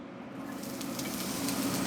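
Onions hit a hot pan and sizzle, a steady crackling hiss that swells slightly over a couple of seconds, close and alone without talk.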